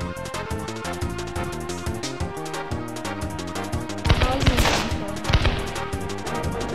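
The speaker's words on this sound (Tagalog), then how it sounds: "Fireworks." Electronic game music from Kirby 64: The Crystal Shards plays while a burst of crackling, popping fireworks blasts erupts partway through, loud and close, then fades back under the music.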